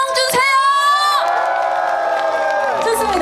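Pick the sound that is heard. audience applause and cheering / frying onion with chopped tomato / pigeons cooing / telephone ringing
audience applause and cheering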